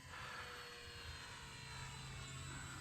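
An E-Flite UMX F4U Corsair RC plane flies at full throttle, its small electric motor and propeller giving a steady, even drone with a faint whine that holds at one level throughout, with no talk.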